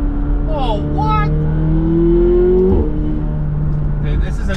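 An 850-horsepower supercar engine drones loudly in manual mode, its pitch climbing steadily before a sudden aggressive gear shift, with the motor continuing under speech.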